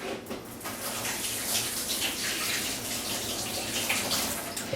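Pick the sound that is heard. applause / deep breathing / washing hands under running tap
washing hands under running tap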